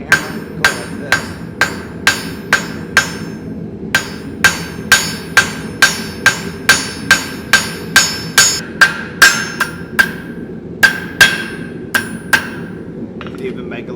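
Loud, ringing hammer blows forging J hooks from hot steel on an anvil in a steady rhythm, about two strikes a second, each with a bright metallic ping and short pauses between runs.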